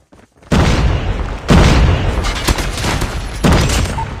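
Grenade explosions in the Call of Duty Mobile video game, loud booming blasts at about half-second, 1.5, 2.5 and 3.5 seconds, each with a rumbling tail under continuous battle noise.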